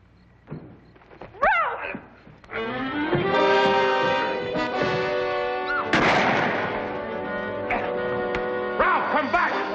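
Gunshots in a 1957 western film, a couple of sharp sudden reports cutting through a loud orchestral score, with a sustained burst around the middle.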